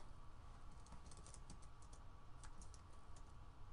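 Rapid, light keystrokes on a computer keyboard patter at close range in irregular bursts while someone types script code, with steady background hiss and no voices.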